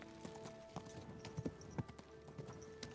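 Horse hooves clip-clopping in the game Kingdom Come: Deliverance 2, a quiet irregular patter of hoof strikes over a soft ambient bed.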